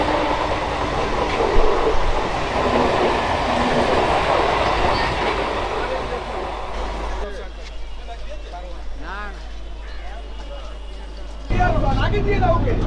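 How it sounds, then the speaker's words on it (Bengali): A train pulls into Bidhannagar station on platform 2 in Kolkata with a loud rumbling roar and wheel clatter. It then cuts to a quieter stretch where people talk over the background, and the rumble returns at the end. "একটা ট্রেন চলে আসছে দেখুন"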